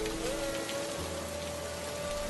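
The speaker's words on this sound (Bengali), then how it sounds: "যেমন বজ্রপাত পড়ছে তেমন ঝড় বৃষ্টি" Heavy storm rain pours steadily with a constant dense hiss, and a faint tonal hum runs underneath.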